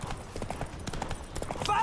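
A horse gallops in The Witcher 3, rapid rhythmic hoofbeats clattering close under a voice talking, with a short whinny-like tone near the end.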